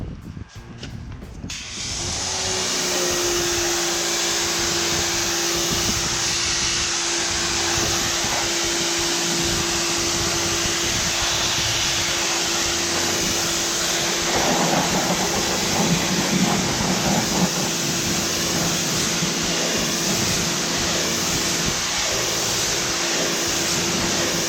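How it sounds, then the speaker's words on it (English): A pressure washer spraying a dirty tire clean gives a loud, steady hiss and whine that starts after a brief quiet moment and runs unbroken, close by, with a faint motor hum under it. "we're going to take our pressure washer and we're going to get this pressure washed off"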